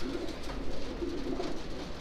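A little slate bronze racing pigeon hen coos inside a small loft, low rolling coos repeating steadily and close at moderate loudness.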